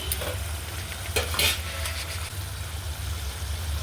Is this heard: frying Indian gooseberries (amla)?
yes